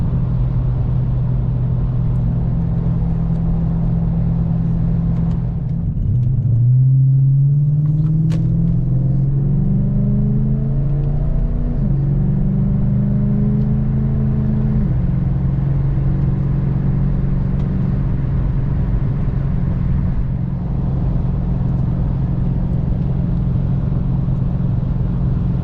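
Steady car engine drone and road rumble while cruising at 65 mph around 2,500 RPM, with a mid-clip pitch sweep as revs shift briefly, continuous and close throughout.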